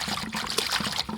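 A trickling stream of water pours over chili pepper leaves as they are washed, a close, steady dribbling splash with no voices.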